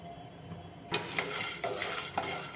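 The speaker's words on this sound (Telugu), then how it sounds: "ఇవన్నీ కూడా ఇలా కలుపుకుంటూ వేయించుకోవాలి." Peanuts, chana dal and coriander seeds being dry roasted and stirred in a pan, with a few scraping strokes and soft rattling from the spoon against the pan. The sounds are close and fairly quiet, and no one speaks.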